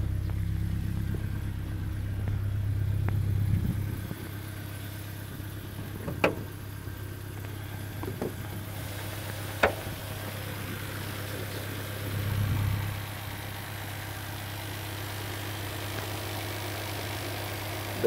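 Petrol BMW 316i Sport Coupe compact engine idling steadily with a low, even hum throughout, a few faint clicks and knocks sounding over the running motor.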